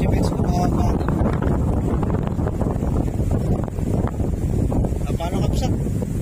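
Strong wind blows over a small fishing boat at sea, buffeting the microphone in a continuous loud roar with gusty surges, and voices can be heard faintly beneath it.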